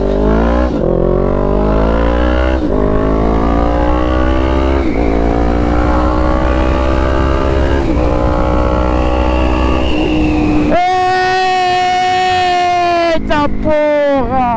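A 2022 Honda CB 500 F fitted with a 304 stainless steel exhaust header revs hard and loud up close, rising through repeated climbing pulls and gear changes before a final sharp, higher-pitched rev.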